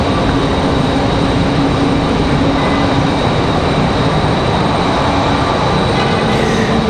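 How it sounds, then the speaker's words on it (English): An Airbus A220 airliner passing at Raleigh-Durham International Airport, a loud, steady broadband jet roar that holds throughout with no talking. "I hear that A220."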